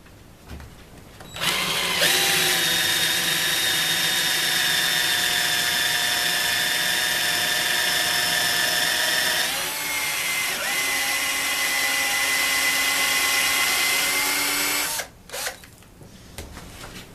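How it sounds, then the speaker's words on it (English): A Forstner bit bores a hole through wood, the drill holding a loud, steady high whine for about thirteen seconds with a brief dip midway before stopping abruptly. "Use the Forstner bit. And I just drop it down in there."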